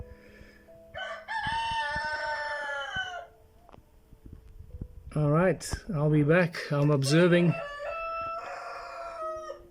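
Several roosters crow loudly nearby, long drawn-out calls overlapping one another, while a person talks briefly under the crowing.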